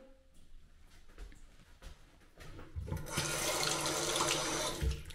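In a hotel bathroom at The Stanley Hotel in Boston, Lincolnshire, a shower runs: a steady, loud hiss of spraying water builds and fills the space after some brief handling knocks.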